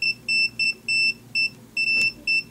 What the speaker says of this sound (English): ohm, which, if they're touching together, it'll beep.